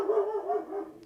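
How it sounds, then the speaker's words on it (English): A dog barks from nearby, a single drawn-out, moderately loud bark or whining howl lasting about a second, with no talking over it. "What is he barking at?"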